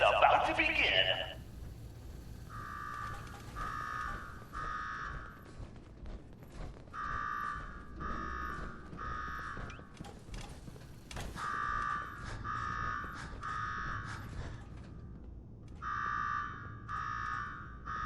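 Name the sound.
alarm sounding in the video game Fallout 4 VR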